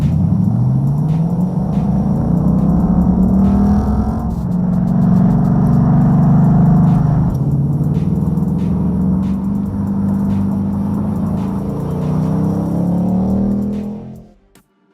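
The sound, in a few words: Ford Mustang Bullitt engine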